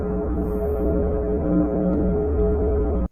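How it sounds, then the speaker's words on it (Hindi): Recorded sound of the universe, meant to feel scary and mysterious: a thick, droning hum with layered low tones and faint warbling pitches, steady and loud for about three seconds before cutting off sharply. "तो अब हम आपको ब्रह्मांड की आवाज को सुनाते हैं, जो सुनने में बेहद डरावनी और रहस्यमयी लगती है।"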